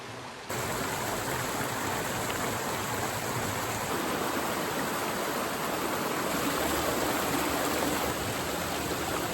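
A large creek flows steadily outdoors, a continuous broadband rush of water that stays loud and even from start to finish with no voices.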